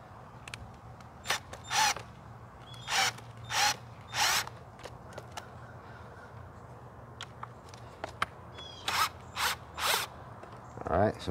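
Short whirring bursts of a power drill loosening screws on a hose reel, about ten spins in uneven pairs and singles with pauses between, close over a steady low hum.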